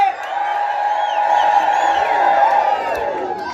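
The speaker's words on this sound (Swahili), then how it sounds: "Wacha nisikie shangwe na vigelegele." A church crowd at a PCA gathering in Laikipia cheers and ululates together, a sustained, loud wash of high trilling cries and shouts that swells and holds for several seconds.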